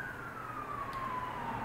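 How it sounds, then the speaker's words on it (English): An emergency vehicle siren sounds from a distance as one steady, slowly falling wail over low traffic rumble, with no talking. "Y'all can hear sirens"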